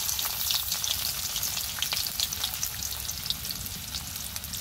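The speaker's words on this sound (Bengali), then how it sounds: "পেঁয়াজ কাঁচামরিচ ভালোভাবে ভেজে নিব।" Chopped onion, whole cumin and green chilies fry in oil in a wok, giving a steady, close crackling sizzle with faint stirring throughout and no talk.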